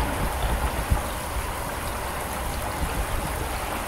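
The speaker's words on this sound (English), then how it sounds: "flowing good now" Dense, rushing flow of water pouring through a freshly cleared, previously clogged culvert, close and steady with faint splashes and no talking.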